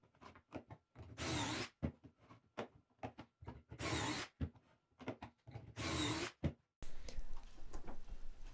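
A power drill drives pocket hole screws into a large workbench top, three loud whirring bursts of a second or so each, spaced apart and separated by clicks and knocks of handling.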